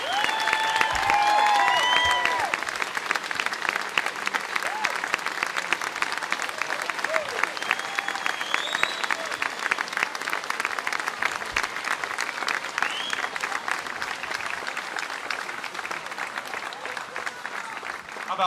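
Sustained audience applause for 14-year-old soloist Pei Wen Liao with the Air Force Band of Liberty, a dense, steady clatter of many hands that swells early and holds at an even level, with a few cheers and faint voices mixed in.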